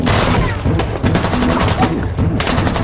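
Dense, rapid gunfire from the first-person action film Hardcore, a loud continuous burst of overlapping shots and booms packed closely through the whole stretch, with no talk.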